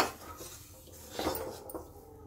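A spatula scrapes through a thickening besan barfi mixture in a pan, producing soft, muffled swishes and a couple of dull knocks against the metal. The sound is quiet and close.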